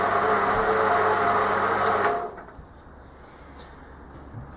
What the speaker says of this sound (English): So hopefully I can do these on the bandsaw.